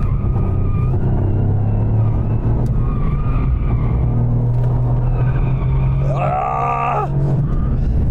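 A Toyota GR Yaris rally car on tarmac suspension drives hard, its engine droning loud and steady before a brief tire squeal or groan rises near the end under heavy braking.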